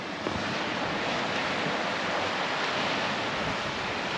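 Surf washes onto a beach in Greece as a steady, dense rush of broadband noise, with wind buffeting the microphone throughout and no voices.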